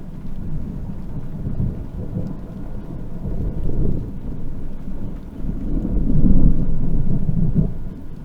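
Thunder follows a huge lightning bolt as a long, deep rumble that swells and fades twice over several seconds, with a steady wash of rain-like noise underneath.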